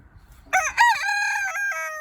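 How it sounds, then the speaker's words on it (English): A rooster crows loudly and close by: one long, bright cock-a-doodle-doo over a quiet background. "Hi, Rooster."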